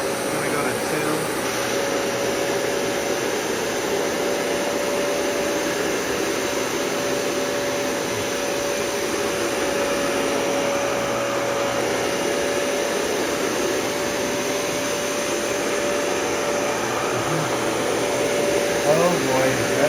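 A Dyson Cinetic Big Ball vacuum cleaner runs at setting 2 while picking up fine particles, giving a steady, loud motor whine and airflow roar with a constant tonal hum that continues without a break.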